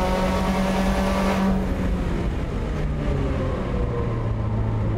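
A Subaru time attack race car screams hard around a track, its engine loud, close and sustained, with rising and falling pitch as it accelerates through the gears during a Global Time Attack super lap.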